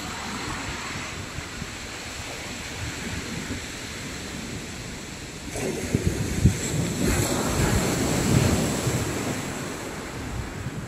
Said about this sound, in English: And all of a sudden the waves have got vicious,